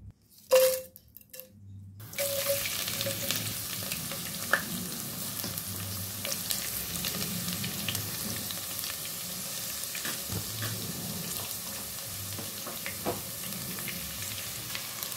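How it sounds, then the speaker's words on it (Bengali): Rice frying in oil in a pot for biryani, a steady close sizzle and crackle with occasional stirring scrapes, preceded by a brief clatter at the start. "এখন আমি চাউলটা ভেজে নিলাম বিরিয়ানির জন্য।"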